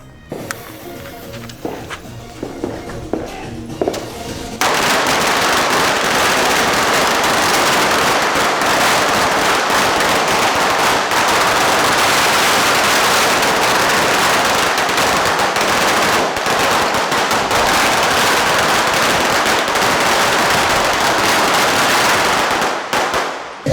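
Deepavali firecrackers burst in a long, continuous, loud crackling barrage after a few seconds of quieter pops and voices, rattling on without pause to the end.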